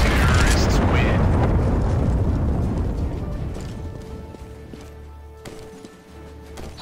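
A heavy bomb explosion in the video game CS:GO booms loudly at the start and then rumbles away over several seconds into a quieter, humming tail.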